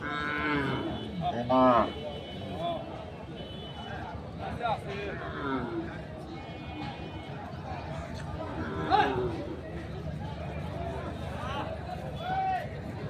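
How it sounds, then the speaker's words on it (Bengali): A deshi-breed dairy cow with her calf moos at the Ranibandar cattle market in Dinajpur. The calls are loud and close, set against steady crowd chatter and people talking nearby. "আরেকটি গাভী বাছুর এসেছে"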